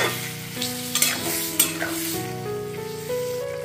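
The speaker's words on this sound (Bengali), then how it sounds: "এবারে আমি এর মধ্যে অ্যাড করে দিচ্ছি জল। ভালোভাবে মিশিয়ে নিচ্ছি।" Fish muri ghanto being stirred in a pan as water is mixed in, steady sizzling and frying with spatula scrapes, close and continuous, while soft music plays underneath.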